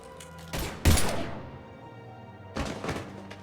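A short burst of gunfire from the video game Mass Effect 3, with a loud sharp volley near the start and a second, softer cluster of shots later, no voices over it.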